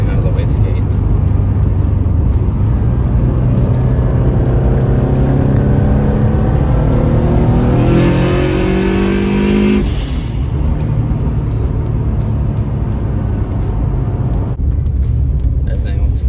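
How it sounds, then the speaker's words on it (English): A turbocharged 2005 Subaru STI with a big turbo and a fault revs hard, its engine roar rising and falling loud and close. Crackling backfires come out of the wastegate during the revving, and people talk over the noise. "it's backfiring out of the wastegate"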